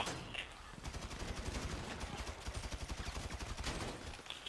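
Continuous rapid gunfire in GTA V, a dense stream of automatic shots with pulsing rhythm throughout, moderately loud and steady with no talk over it.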